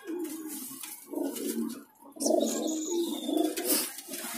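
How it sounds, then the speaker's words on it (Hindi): White pigeons at a bird market near Jama Masjid in Delhi coo in low, rolling bursts at close range, with a few higher chirps mixed in. "ये देखो गाइस ये कबूतर है"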